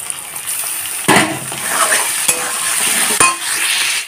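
Tomatoes fry with onions in an oiled pan for a light chicken curry, a close, steady sizzle broken by several sharp spatula scrapes and knocks against the pan.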